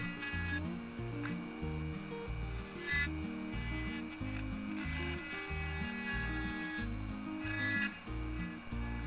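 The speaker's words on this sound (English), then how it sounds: "I'm now going to deburr the axles to get the wheels off." Small rotary tool grinding steadily and faintly at the axles of a die-cast Matchbox Albion Chieftain toy truck, with a continuous buzzing whir that varies slightly in pitch.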